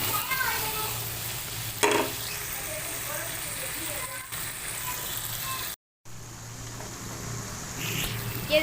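Boiled arbi (taro) sizzling and frying in roasted masala in a pan, a steady close crackle with stirring scrapes throughout and a brief moment of silence.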